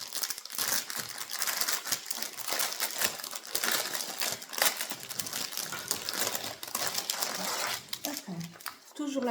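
Plastic packaging crinkles and rustles almost continuously, close and busy, with sharp crackling bursts and occasional handling clicks.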